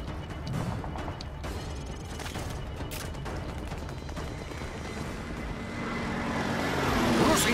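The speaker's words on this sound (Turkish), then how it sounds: "Rus insansız uçağı üstümüzde." Russian drone aircraft passing overhead in Modern Warfare 3, a steady droning engine roar under battle noise and impacts, swelling louder toward the end as it comes close.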